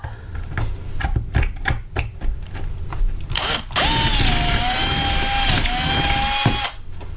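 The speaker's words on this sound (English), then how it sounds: "I need to drill that and make that bit bigger" Short bursts of a power drill start and stop, then one long steady whine as the bit grinds through material enlarging a hole, stopping abruptly before a brief restart.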